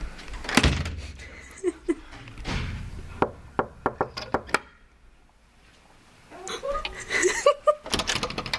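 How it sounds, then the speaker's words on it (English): Several sharp knocks rap on a hotel room door in a quick run, with laughter and talk before and afterward. "Knock on the door."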